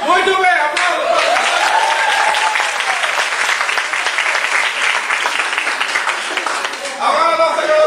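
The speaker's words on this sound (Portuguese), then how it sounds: "Muito bem, aplausos." An audience at a stand-up comedy show breaks into loud, sustained applause for several seconds before it fades, with a voice heard at the start and the end.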